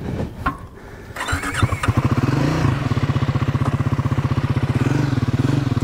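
A 2024 Triumph Scrambler 400X motorcycle fires up after a short starter crank, then settles into a loud, steady, close single-cylinder idle with an even putting rhythm, outdoors on a lawn.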